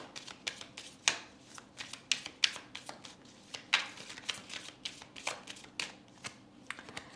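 A deck of tarot cards is shuffled up close, producing a string of quick papery riffles and soft slaps in irregular bursts over a quiet room, with no voices.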